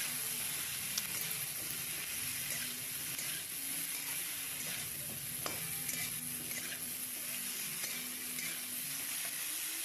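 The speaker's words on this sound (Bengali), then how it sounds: "একটু নেড়ে নেব।" Cauliflower and potato with turmeric sizzle steadily in hot oil, a dense close hiss running throughout, with faint scraping of stirring and a few small clicks, no voices.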